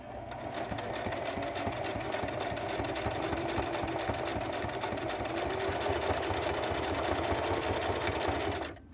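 A Singer 4411 sewing machine stitching a buttonhole, running continuously with a fast, even mechanical chatter close by, loud and uninterrupted until it stops at the end.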